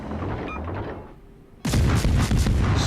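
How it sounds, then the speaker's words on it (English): Warship guns firing in a naval battle game: after a quieter stretch of engine rumble, a sudden loud salvo bursts in and keeps pounding with rapid heavy booms, close and dominant. "instead I'm using my guns."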